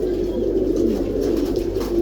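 Domestic pigeons cooing close by, a male chasing a female; low, throaty coos roll on continuously over faint background noise.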